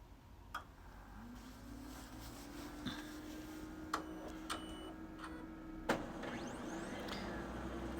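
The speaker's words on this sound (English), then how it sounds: "Okay, the printer's coming on" A home printer powering on and starting up, with scattered clicks and ticks, a low mechanical whir setting in and a faint steady hum underneath, heard fairly close in a quiet room.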